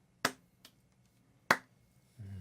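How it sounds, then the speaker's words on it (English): A lone person claps slowly and lightly in a hushed arena: two crisp claps stand out, with a softer one between them, then a low rumble follows. "a stringy-haired old man just lightly clapping"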